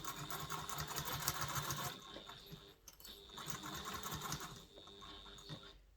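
A sewing machine stitches a diaper bag in two steady runs of rapid mechanical whirring and needle chatter, close and fairly loud, separated by a short pause.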